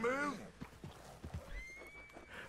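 A horse in the video game Red Dead Redemption 2 lets out a loud, close whinny at the start, followed by scattered hoof thuds and a thin sustained game tone.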